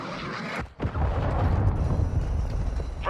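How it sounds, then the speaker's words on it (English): A cruise missile killstreak in a first-person shooter game streaks in with a loud, continuous roaring rush, briefly dipping before surging into a sustained heavy rumble with crackling debris-like texture throughout. "Friendly cruise missile approaching target."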